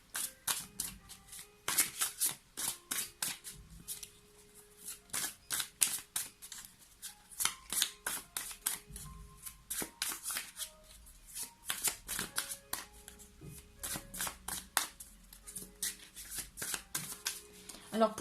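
A deck of tarot cards is shuffled by hand in a steady run of crisp riffling flicks and slaps, close and clear, continuing in bursts for a long stretch with brief pauses.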